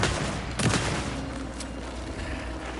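A shotgun blast in the horror game Alan Wake II: one fairly faint, short boom over a steady low background drone.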